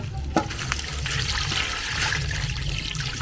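Water poured into an empty cooking pot makes a steady, close splashing rush that continues without a break, with a small knock near the start.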